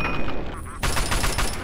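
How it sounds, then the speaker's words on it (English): Gunfire in Fallout 3, a dense burst of rapid shots starting suddenly partway through, loud and close, with game ambience beneath. "shoot his shooting arm"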